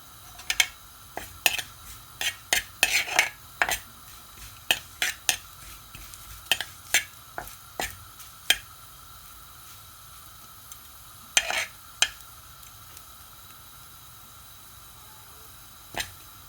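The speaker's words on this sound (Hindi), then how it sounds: "इसे 2-3 मिनट तक बस हम ऐसे चमचे चलाते रहेंगे और पका लेंगे।" A spoon stirs samosa potato filling cooking in a pan, giving a soft sizzle under sharp, irregular scraping clinks, some clustered and others spaced out.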